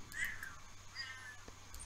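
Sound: cat meowing in the video game The Sims 4

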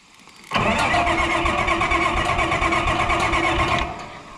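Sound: Oliver tractor engine starting up

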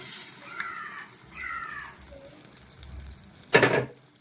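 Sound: cooked lentils added to sizzling masala in pan

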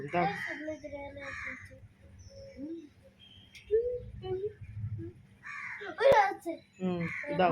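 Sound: crows cawing while being fed

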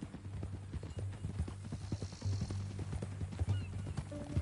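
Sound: horse hooves clip-clopping

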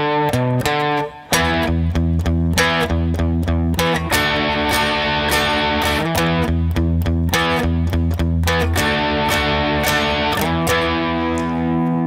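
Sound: distorted electric guitar playing a chorus riff slowly

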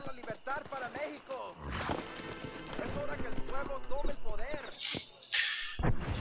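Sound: horse hooves clip-clop in video game

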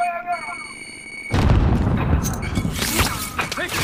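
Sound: grenade explosion in Call of Duty video game

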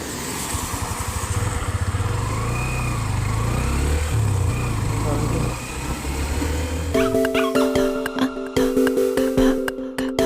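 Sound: motorbike riding on road

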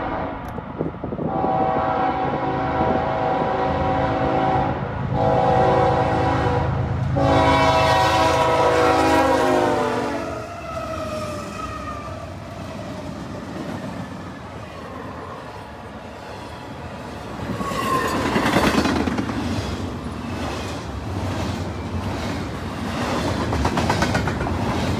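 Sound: intermodal freight train with five engines passing

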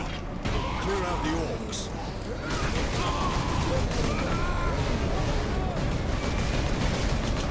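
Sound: grenade explosion in video game Warhammer 40K: Space Marine

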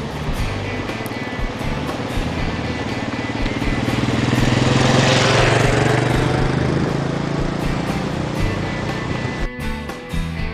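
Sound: ATV driving up and down along a canal

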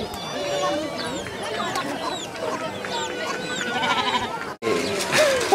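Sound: sheep bleating

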